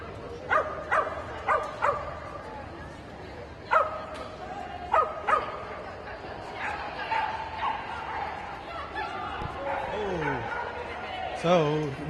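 At a dog agility or canine snooker competition, a dog barks repeatedly in short bursts, then whines and yips, with a commentator talking over it in a roomy space.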